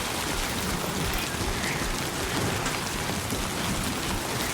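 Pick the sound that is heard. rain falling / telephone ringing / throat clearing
rain falling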